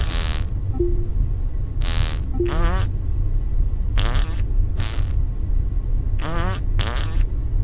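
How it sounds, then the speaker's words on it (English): Repeated cartoonish fart noises from the Goose Goose Duck video game, six or seven short buzzy blasts spaced across the stretch over a steady low background hum. "Me and this one guy who's having a fart off"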